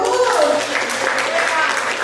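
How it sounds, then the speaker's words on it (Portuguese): A church congregation claps for Jesus at a family-focused service, a continuous burst of applause with voices and shouts woven through it. "Palmas pra Jesus!"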